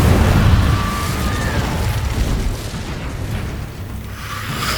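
Incendio fire spell cast in Hogwarts Legacy, a loud whooshing burst of flame that booms at the start and then rumbles and fades over a few seconds.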